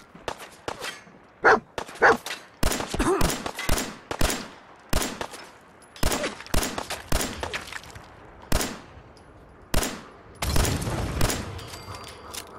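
Rapid bursts of machine gun fire in the video game Fallout 4, sharp cracking volleys in quick clusters with brief gaps, loud and close, with scattered single shots between the bursts.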